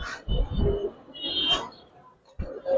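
Pigeons at a Giribaz and coloured pigeon farm give soft, low coos and murmurs close by, in short uneven phrases with brief pauses, with a few higher chirps mixed in.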